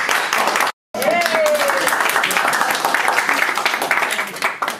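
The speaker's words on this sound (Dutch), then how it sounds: "Applaus" Audience applause at a certificate ceremony, a steady wash of clapping lasting several seconds after a brief gap, with a whistle rising through it.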